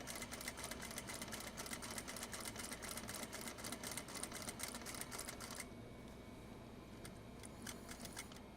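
Sewing machine stitching fabric for a purse scarf, a rapid steady mechanical whir with fast needle ticks that runs for several seconds, then stops, leaving a few isolated clicks.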